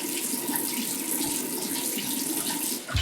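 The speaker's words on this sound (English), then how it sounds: "Just do a quick rinse." Tap water runs steadily into a bathroom sink for a rinse after a safety razor shave, a close, continuous splashing rush that ends with a small clunk.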